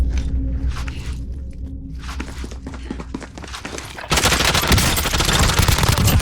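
Gunfire in the video game Warzone, rapid bursts of shots that grow into a loud, sustained barrage of automatic fire in the final couple of seconds.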